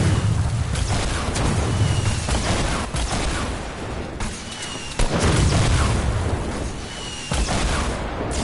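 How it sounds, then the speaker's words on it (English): Rocket explosions in a squads shooter video game, several heavy booming blasts a couple of seconds apart over a dense, loud rumbling background of game action. "I'm getting a rocket from behind"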